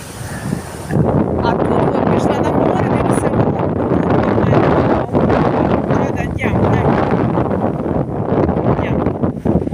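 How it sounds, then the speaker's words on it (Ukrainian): Strong wind buffets the microphone in a loud, steady roar, with a voice partly buried beneath it. "Вітер такий."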